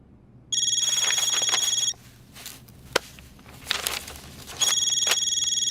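A telephone rings in two long electronic bursts separated by a pause filled with faint clattering and movement.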